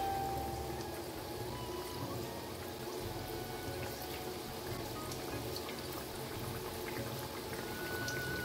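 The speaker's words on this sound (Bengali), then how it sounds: "তেলটা মাঝারি গরম হয়ে গেছে, খুব হাই হিট করিনি। এবার পিঠেগুলো একে একে আমি ছেড়ে দিচ্ছি।" Moong dal pitha fry in medium-hot oil in a kadai, a steady, even bubbling hiss that stays fairly quiet and unbroken throughout, with no talking.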